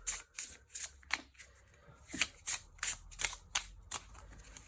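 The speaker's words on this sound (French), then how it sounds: "On vient ensuite mélanger les cartes." Playing cards shuffled by hand during a magic trick, a quick series of about ten crisp riffling bursts in an uneven rhythm, close and fairly loud with nothing else around them.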